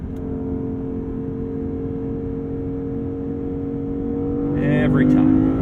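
The V8 engine of a 2022 Lexus IS 500 F Sport Performance sedan drones steadily with a humming tone, then swells and revs louder toward the end.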